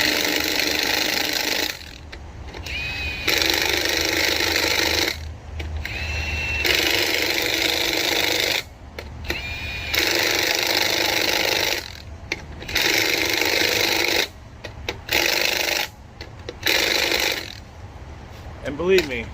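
Cordless impact wrench tightening lug nuts on a Ford Transit 2500 passenger van, loud repeated bursts of hammering rattle separated by short pauses, with talk between bursts.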